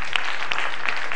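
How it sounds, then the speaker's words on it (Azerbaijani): An audience in Azerbaijan applauds as a young man named Vüsal is sent off, a dense, steady clapping held evenly throughout with no voices over it. "Alqışlarla yola salırıq Vüsalı."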